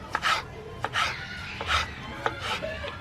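A knife chops through tomato on a board for fried rice, making a series of irregular crisp thuds, about six strokes close by, with no voices.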